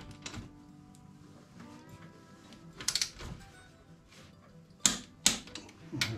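A torque wrench set to 74 foot-pounds tightens wheel nuts on a new tire, producing sharp metallic clicks in small clusters with pauses between them, close and fairly quiet.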